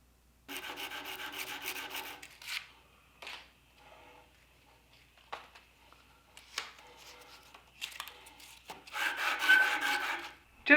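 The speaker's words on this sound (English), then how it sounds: "that's how much it took to sand out the 4 bevels. Just the pre-sand with the 220 grit." Knife bevels being sanded by hand with 220 grit sandpaper, heard as close rasping rubs in several bursts, some long and steady and others short, with quiet pauses between them.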